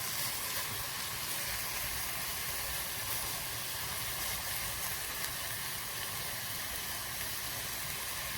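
Pieces of meat for Quedra searing and being stirred in a pot over high heat: a steady, loud, continuous sizzle and hiss that stays even throughout with no talking.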